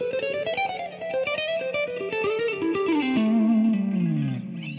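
Distorted electric guitar plays quick hexatonic runs laced with chromatic passing tones, with an effects-unit tone and light chorus; the notes ring out steadily and closely, alone with no voice.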